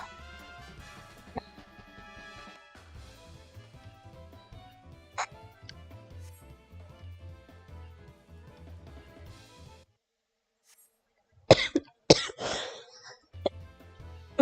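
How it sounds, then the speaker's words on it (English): A few sharp, close coughs and throat-clearing bursts break out near the end, after quieter stretches of background music and game sounds. "I'm gonna mute real quick while I have a coughing fit"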